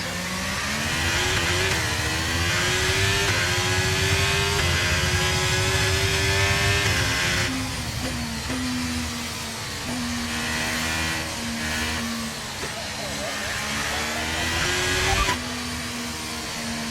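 A Formula 1 car in a racing video game at Monaco screams at high revs with a loud, constant engine whine that rises and falls through gear changes and corners, with no talk over it.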